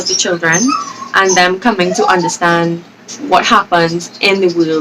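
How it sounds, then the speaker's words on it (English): Dogs whimper and cry faintly in the background of a room while a person talks steadily in the foreground, the high whines mostly buried beneath the speech. "Please excuse my crying dogs in the background."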